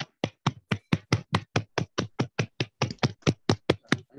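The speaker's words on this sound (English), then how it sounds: "with a huge round of applause" Steady, evenly spaced hand claps at a webinar, about four per second, sound close and dry like one pair of hands with no crowd and no talk.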